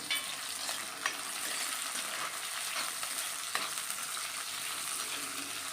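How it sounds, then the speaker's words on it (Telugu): Chopped onion and green chillies fry in hot oil for a dried fish and cucumber curry. A soft, continuous sizzle is heard up close, punctuated by a few sharp spatula knocks against the pan. "ఉల్లిపాయ కొంచెం ఫ్రై అవ్వాలి"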